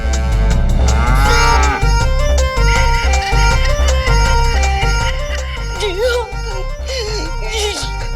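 A buffalo lows over a backing music score in a Hindi family TV drama, the deep bovine calls sounding repeatedly and loudly beneath the music.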